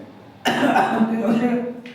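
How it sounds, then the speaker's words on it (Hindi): A single harsh, close cough bursts out and trails into a rough, voiced throat sound lasting over a second. "सॉरी बच्चों खांसी आ गई।"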